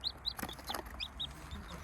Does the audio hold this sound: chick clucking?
yes